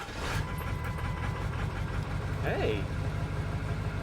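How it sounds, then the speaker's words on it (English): A diesel monster truck engine, 185,000 miles on it, idles with a steady low rumble, and a brief rising turbo whine spools up midway. A person speaks briefly over the running engine. "Then you can hear the turbo coming to life."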